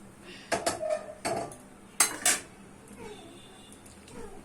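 A metal wok (kadai) is set down among pots, making a handful of sharp clanks and clinks in two quick clusters before the kitchen settles back to a quiet hum.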